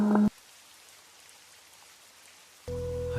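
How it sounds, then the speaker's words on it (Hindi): Heavy rain falls as a steady hiss of drops on surfaces at night near a ruin, continuous and moderately loud between brief tonal bursts at start and end. "अरे बाप रे, इतनी तेज बारिश!"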